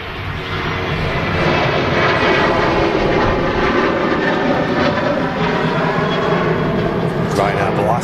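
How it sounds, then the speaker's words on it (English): A Ryanair jet takes off from runway 23 right at Manchester Airport, bound for Genoa, a loud, steady engine roar filling the whole stretch without easing, with people talking faintly underneath. "Ryanair blasting off 2-3 right on the way to Genoa"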